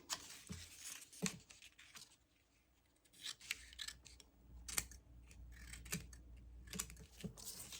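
Scissors cutting paper for a handmade envelope journal in a quiet crafting setting, heard as a series of close, crisp snips and slicing strokes at an uneven pace, with light paper rustling in between and no talking.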